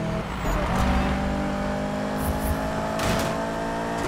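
A Corvette driven in the Need for Speed racing game gives a loud, continuous engine drone whose pitch rises and shifts as it accelerates, steady throughout with no pauses.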